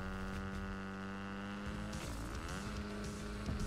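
A motorbike ridden by Batman in a video game, with a steady droning engine tone that rises and bends in pitch midway, heard alone at a constant level.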